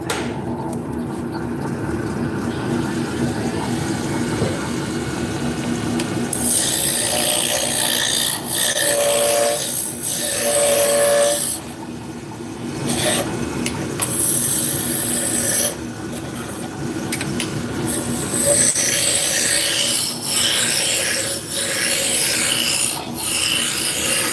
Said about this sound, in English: So we're turning hard maple on the lathe.